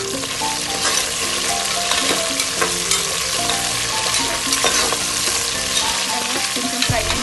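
Green chillies and a sprig of curry leaves frying in hot oil: a loud, continuous sizzle and crackle with occasional stirring, steady for the whole stretch.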